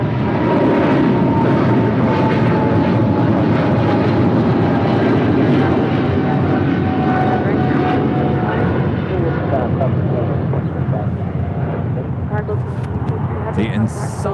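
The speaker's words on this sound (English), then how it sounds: "The Insomniac livery back here in LAX, coming from McAllen, A320, Allegiant Air Flight 806" An Allegiant Air A320 at LAX gives off a loud, continuous engine roar with a steady tonal whine layered over broadband rumble, close by and sustained across the whole stretch.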